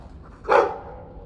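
A single short bark from a dog in the fantasy video game Dragon Age 2, sharp and fairly close, rising out of a quiet background and fading quickly.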